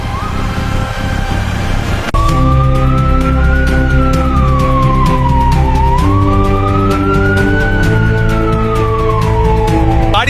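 A police car siren starts abruptly and then wails loudly, rising and falling in slow sweeps over a steady low engine drone.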